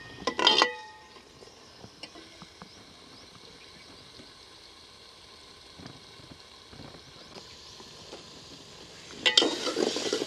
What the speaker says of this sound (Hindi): अब हम इसे भून लेंगे अच्छे तरीके से, पालक और आलू दोनों को।